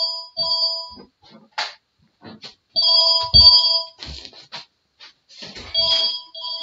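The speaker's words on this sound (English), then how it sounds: "The phone rang." A landline telephone rings in repeated bursts of electronic trilling, fairly close and loud, with short gaps between rings and some faint background movement.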